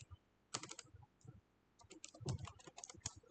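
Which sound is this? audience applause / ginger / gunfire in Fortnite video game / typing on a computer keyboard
typing on a computer keyboard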